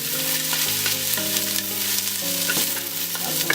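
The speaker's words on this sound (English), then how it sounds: "Next step is sauteing the onions." Shallots sautéing in leftover chicken oil for a Moroccan cinnamon date chicken, a steady broadband sizzle running throughout with a few scraping stirs, while a sustained tonal hum of steady pitches sits underneath.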